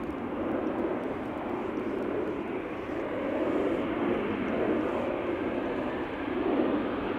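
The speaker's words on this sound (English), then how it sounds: "the A350-900 to bloody Helsinki is approaching." A Finnair Airbus A350-900 approaching Amsterdam Schiphol makes a steady, moderate broadband roar that rises and falls gently in waves at a distance, with no talk over it.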